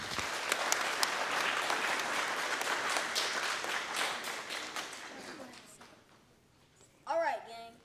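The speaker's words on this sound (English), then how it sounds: "Let's give them a round of applause" An audience applauding before a Charlie Brown baseball-game performance at a school board meeting: a dense, steady wash of clapping that fades away over several seconds, followed by a brief voice at the end.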